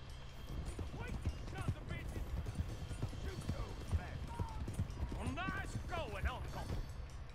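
Horse hooves clip-clopping at a steady riding pace in the video game Red Dead Redemption 2, a rhythmic run of dull thuds heard under people talking.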